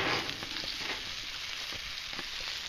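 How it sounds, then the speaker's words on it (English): Onions sizzle and fry in a hot pan over a wood-fired rocket stove, giving a steady crackling hiss with a few small pops and no talking. "There's adding the onions."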